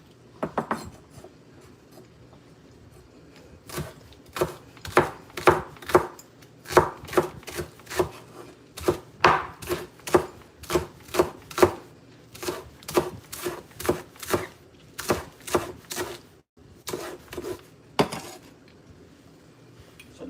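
Green onions and a chili pepper are chopped with a knife on a board, a long run of crisp, close knocks in a quick, steady rhythm with brief pauses, and no voices over it.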